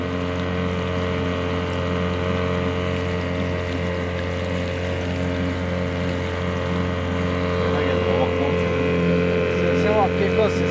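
A Johnson 4 HP outboard boat motor runs steadily close by, a constant droning hum with rhythmic engine pulsing that continues throughout, while voices occasionally speak over it.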